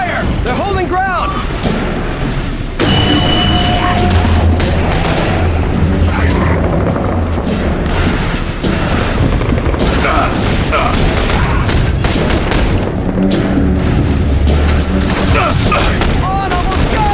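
Gunfire and explosions in The Bureau: XCOM Declassified: dense, loud bursts of automatic fire and booming blasts pour out continuously and close, with shouting voices over the battle.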